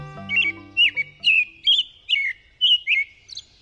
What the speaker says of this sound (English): American robins begin piping up in late winter and then sing all through spring and summer